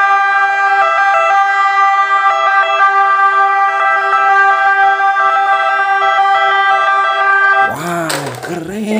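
A toy ambulance wails a steady electronic siren with a continuous, slightly wavering tone. It plays alone for several seconds before a voice cuts in near the end.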